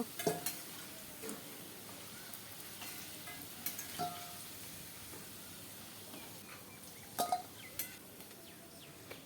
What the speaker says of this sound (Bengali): তো আলুটাকে আমি প্রথমে তেলের মধ্যে দিয়ে দিলাম। এবার খুব ভালো করে ভেজে নেব।